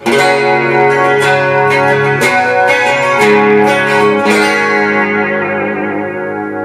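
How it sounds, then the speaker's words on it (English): Electric guitar chords ring out with a shimmering 80s-style chorus effect, several strummed hits sustaining and slowly fading, loud and close. "Here's a chorus tone that's kind of slick, 80s slick."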